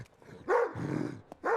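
A dog barks at two boys in short, sharp bursts, two or three close barks separated by brief pauses.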